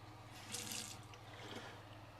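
Water runs from the sink tap in a small cabin, a brief close gush that swells and then settles into a steady stream.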